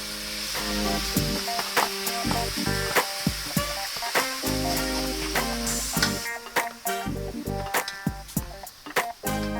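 Homemade dog food ingredients sizzle and fry in a hot pan, a loud steady crackle punctuated by repeated clinks and scrapes as the food is stirred.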